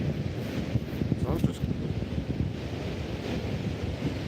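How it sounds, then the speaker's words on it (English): Wind and surf on an empty, breezy beach after morning rain, a constant faint rushing roar with gusty microphone buffeting and soft wave wash. "I'm at the beach right now in case. I'm just gonna confirm it. It's pretty empty and it's a little windy"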